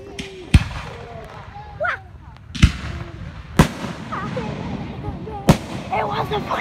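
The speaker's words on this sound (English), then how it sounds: "Fireworks, you dolt." Fireworks exploding: several sharp, loud bangs spaced a second or more apart, with crackling and whistling in between and voices in the background.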